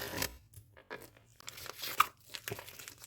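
Close crinkly tearing of a perforated paper packet in several short rips and rustles, with small crackles between bursts.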